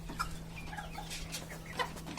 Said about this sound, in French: vous avez vu, là c'est un coq blue